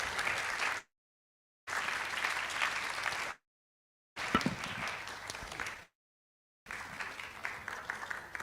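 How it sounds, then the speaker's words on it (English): Audience applause at a medical college public lecture in Ghana, steady mid-distance clapping from a hall crowd in several bursts separated by short silent gaps. "Please just keep clapping."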